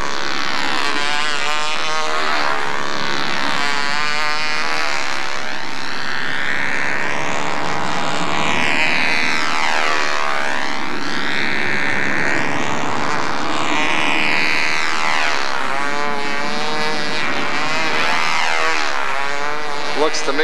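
A model airplane engine drones in flight, its pitch swelling and falling as the plane passes and maneuvers overhead in windy conditions, continuous and fairly loud with voices talking over it.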